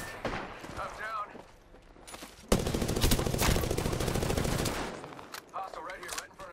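Automatic weapon fire in the battle royale shooter Apex Legends: a sudden, loud rapid-fire burst lasts about two seconds, then tapers into scattered shots, with voices heard before and around it.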